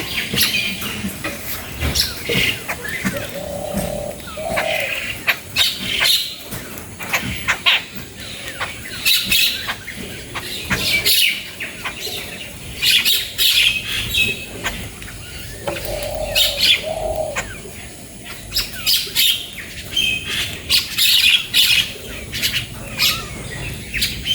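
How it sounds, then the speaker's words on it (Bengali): Many birds call and chirp together at dawn outside a family home, with a busy chorus of overlapping tweets and squawks running continuously, fairly near and moderately loud, with occasional wing flutters. "কিন্তু ঝাঁকে ঝাঁকে পাখি আসে"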